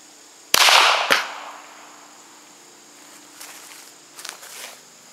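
A single sharp rifle crack rings out at a trick-shot target set up in front of a backstop, quickly followed by a second impact snap, then a few faint ticks over a quiet outdoor hum of insects.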